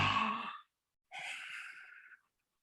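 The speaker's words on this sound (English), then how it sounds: "Take a deep breath in." A deep breath taken during a yoga breathing exercise: a long, audible inhale or sigh close to the mic, a short silence, then a second airy breath lasting about a second, with no talking.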